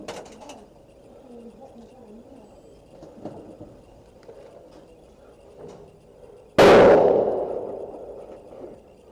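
An airsoft gun fires during a private airsoft game, giving one sudden loud, close crack that rings out and fades, after a stretch of quiet outdoor ambience with birds calling.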